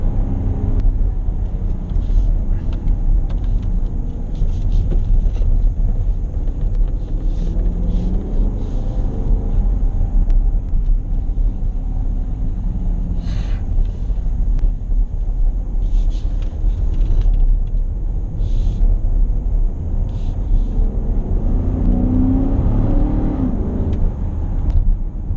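2017 Dodge Durango R/T being driven through turns, a constant low rumble of engine and tyres with gentle swells of revving, steady and close throughout.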